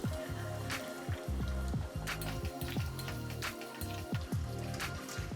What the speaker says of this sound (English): Finally, I add the potatoes and the pre-cooked meat to the pot.